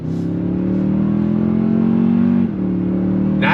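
A 2022 Toyota Tundra Limited with a twin turbo V6 and 10-speed transmission pulls hard under throttle, its engine note climbing steadily before a quick shift drops the pitch and it keeps building, loud and close.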